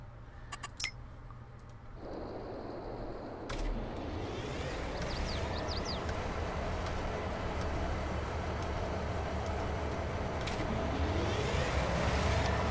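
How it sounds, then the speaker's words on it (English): A Norfolk Southern locomotive in Farming Simulator 22 starts up with a low engine rumble that builds into a steady, continuous drone. A few short clicks and tones come first, then the rumble holds at a fairly loud level throughout. "Our Norfolk Southern train"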